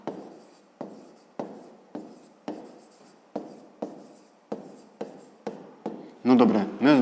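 A pen writes on paper in short rhythmic strokes, about a dozen scratchy bursts with brief pauses between them, quiet and close, ending with a short burst of speech.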